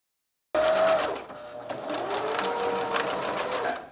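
A sewing machine stitches the skirt onto a dress for an 18-inch doll, running steadily and close by with a dense mechanical whir and rapid needle clatter for several seconds after a sudden start, with no talk over it.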